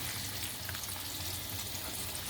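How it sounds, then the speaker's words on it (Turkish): Fish from a package frying in a home kitchen pan, a steady dense sizzle with a faint low hum underneath, continuous and fairly close with no talking. "Şöyle bunlar hala kızarıyor."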